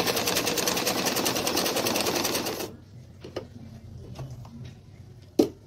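A sewing machine runs a straight seam on fabric with a rapid, steady whirring for about three seconds, then stops, leaving a few scattered clicks and one sharper tap.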